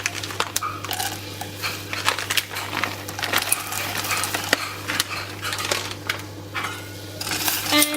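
Chocolate chips pour into a bowl in a kitchen, a quick scattered patter of small hard pieces clattering against the bowl over a steady low hum.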